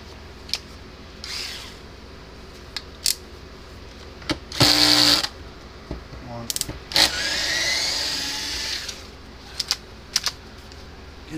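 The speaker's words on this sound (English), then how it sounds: "I'm just going to take the screws out of it." Screws being taken out of the casing of a Gallagher M600 electric fence charger, with scattered clicks and taps, a short burst of buzzing and a longer whirring stretch from a driver.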